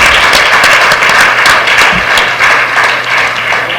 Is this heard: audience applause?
yes